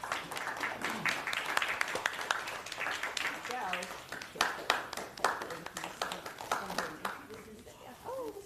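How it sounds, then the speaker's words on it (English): Steady applause from a crowd at an Advocate of the Year award ceremony, many hands clapping with scattered voices and cheers mixed in. "you should give her a round of applause"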